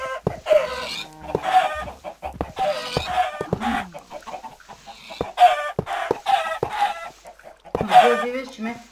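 Blocky Minecraft chickens cluck in short repeated bursts during a chicken-killing round in a Herobrine Chamber map, the game's poultry calls sitting close and fairly loud with no talk over them.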